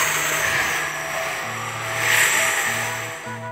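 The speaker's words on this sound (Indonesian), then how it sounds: "Suara angin terdengar kencang, bertiup kencang bagaikan angin puyuh." A strong, whirlwind-like gust roars steadily as a dense, broad rush, swelling slightly toward the middle over a low droning tone.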